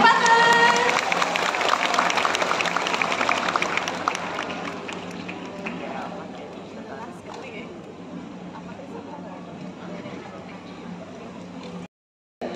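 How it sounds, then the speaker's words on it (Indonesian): At an Islamic talk session with a preacher, the crowd claps and cheers loudly at first, then the applause thins and fades under chatter and a voice, ending with a brief cutout. "Apresiasinya tepuk tangan."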